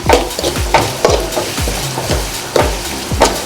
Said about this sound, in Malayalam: നമുക്കിത് നന്നായിട്ടൊന്ന് വഴറ്റാം